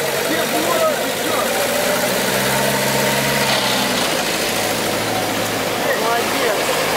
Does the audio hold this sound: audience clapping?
no